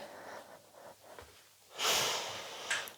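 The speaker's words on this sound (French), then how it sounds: "La respiration Ujjayi est toujours présente." Ujjayi yoga breathing during a gentle stretching session: soft, hissy breaths close to the mic, with a quieter stretch first and then a louder, longer airy exhale and a brief sharper breath near the end.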